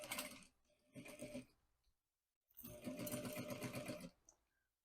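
Sewing machine stitching a fabric pencil pouch, running in two loud mechanical bursts with a quiet gap between, the rapid needle clatter close and steady, with no talking.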